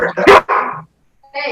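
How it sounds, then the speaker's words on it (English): A dog lets out a few sharp barks close by, overlapping with a voice, then a pause before another short bark-like burst. "sorry, that's our dog."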